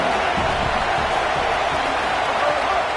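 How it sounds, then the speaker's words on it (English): Home crowd at a football game, a dense, steady roar of many voices that fills the space with a constant wash of noise. "Now this home crowd making life difficult."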